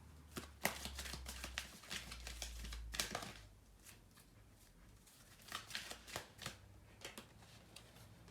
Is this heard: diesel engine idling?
no